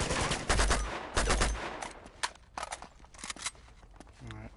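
Gunfire from the video game Uncharted comes in several rapid bursts of loud shots, followed by scattered single cracks and clicks as the firing tapers off.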